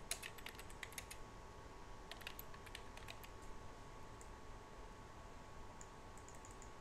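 Computer keyboard keys typed in quick, irregular bursts while entering text, light close clicks with short pauses over a faint steady hum.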